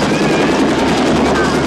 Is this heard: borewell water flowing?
no